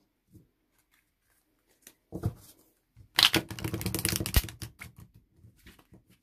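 Crisp riffling and flapping of a very bendy Waite-Smith tarot deck being shuffled, a brief burst followed by a longer dense flurry of papery snaps, close and fairly loud.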